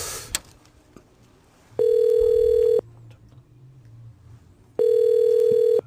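A telephone ringback tone: two long, steady electronic beeps about three seconds apart, with a quiet pause between them and no answer.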